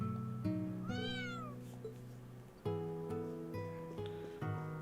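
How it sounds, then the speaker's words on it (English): A cat meows several times in the video game Trails of Cold Steel III, in short, clear cries set over soft game background music, with no talk. "But I am seeing a cat here."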